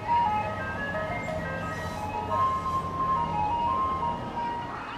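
An ice cream truck in a residential neighborhood plays a tinny jingle melody over steady, rumbling street and engine noise, heard at moderate distance.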